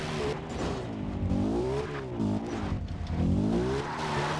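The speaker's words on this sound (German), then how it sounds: "Zum Glück haben wir so ein geländegängiges Fahrzeug." Off-road vehicle engine in Far Cry 3, a steady droning motor that rises and falls in pitch as it revs and shifts while driving along a rough path, loud and continuous.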